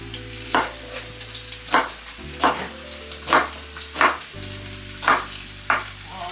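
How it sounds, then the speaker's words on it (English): A pan of food sizzles steadily as it fries, while sharp scraping bursts from stirring land about once a second. Faint background music plays underneath. "let's fry this up."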